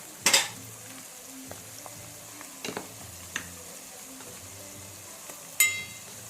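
Ginger garlic paste and onions frying in a pan for mutton curry, a steady soft sizzle under a few sharp clinks of a spoon against the pan.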